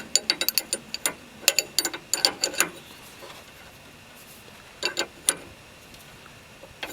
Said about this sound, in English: take your 19 millimeter socket and tighten down your bolt